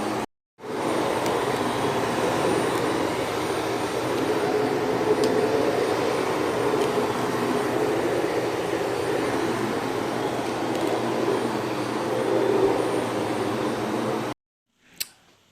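An Electrolux Ultraflex EL4335B vacuum cleaner runs with a loud, steady motor roar and airflow whoosh from start to near the end, then cuts off with a short click.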